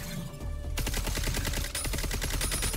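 Rapid gunfire in the shooter game Concord, a dense burst of repeated shots hammering away loudly and continuously, fast automatic rhythm with little pause.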